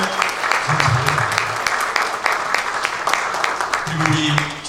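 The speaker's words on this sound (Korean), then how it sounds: "우리 방지강 목사님과 우리 사모님에게 큰 박수를 주시면 감사하겠습니다." Applause from a congregation at a church ordination service for a pastor, steady dense clapping filling the room throughout, with a voice speaking over it in the background.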